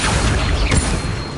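A dense, noisy magical whoosh with a rising swept tone from a summoning spell cast in a wizarding video game, loud and continuous for about a second and a half, with no voices.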